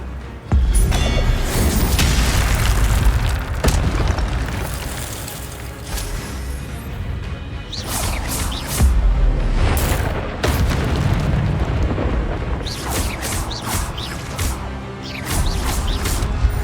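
Fiery spell blasts from the Incendio charm in Hogwarts Legacy boom and burst in loud, repeated bursts amid dense game combat noise, with several sharp impacts stacked over a rumbling background.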